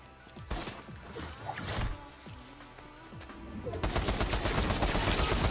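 Gunfire in Fortnite: bursts of rapid automatic shots, with a brief lull in the middle, then a louder, denser stretch of continuous firing near the end.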